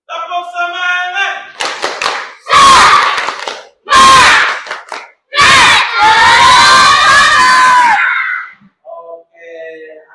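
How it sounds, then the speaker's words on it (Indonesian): Schoolchildren repeat a 'tepuk semangat' routine in class, patterned clapping bursts and loud unison shouts close by, with a teacher talking briefly before and after. "Oke, coba sekali lagi Bapak minta tepuk semangat."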